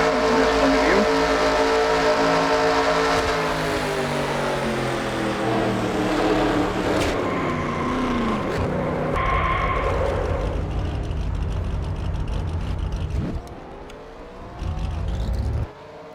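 Onboard stock car engine at Daytona in NR2003, a loud, sustained high-revving drone with harmonics sweeping up and down through gear changes, close throughout, easing off briefly near the end before picking up again.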